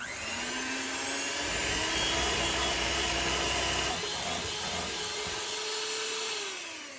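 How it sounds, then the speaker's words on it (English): Electric mixer beating banana bread batter with eggs until frothy, a steady loud motor whine that rises in pitch partway and winds down near the end, no talk. "we're going to mix this till frothy."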